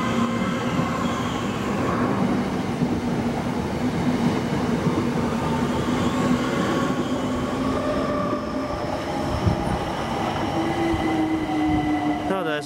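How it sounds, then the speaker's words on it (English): A London Overground Class 378 passenger train rolls past at Denmark Hill station in London at a steady roar, with rumbling wheels and a faint metallic squeal rising near the end. "there's an overground train coming"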